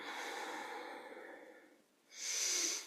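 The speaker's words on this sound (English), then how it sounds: "Breathing from the belly" Slow, deep belly breaths during a qigong exercise, a long soft exhale fading out, then a sharper, louder breath close to the microphone.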